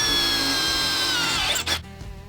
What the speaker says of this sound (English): Let's drill that hole out and see if we can make this thing work.